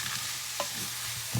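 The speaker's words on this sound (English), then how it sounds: "And I'm going to give that a stir." Corn being stirred in a hot pan, a soft continuous sizzle with one brief scrape near the middle and a low thump at the end, close and quiet.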